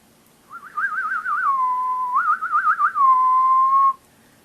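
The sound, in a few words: boy whistling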